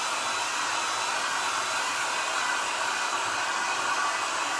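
Heat tool blowing hot air over a floral furniture transfer on a faux wood plank tabletop, a steady, even, close-up whooshing roar that holds constant throughout with no talking.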